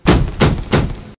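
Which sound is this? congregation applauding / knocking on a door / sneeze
knocking on a door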